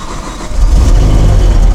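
A faulty BMW V10 engine catches and starts, then idles loudly and unevenly with a rough, lumpy low rumble, close to the microphone.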